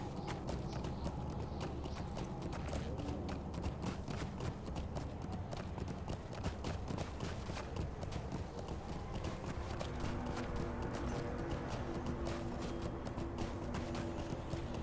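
A horse's hooves clip-clop in Lord of the Rings Online, a quick, steady run of hoofbeats throughout, joined later by a sustained musical tone.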